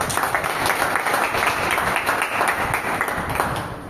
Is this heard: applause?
yes